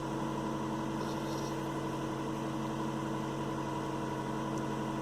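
A cold Toyota car engine idles steadily after a morning start, a faint, even hum with no changes in pace throughout.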